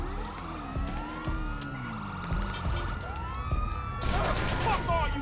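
Police siren in the video game GTA V wailing up and down in repeated sweeping cycles, loud and close, with engine and gunfire noise underneath and a voice talking over part of it.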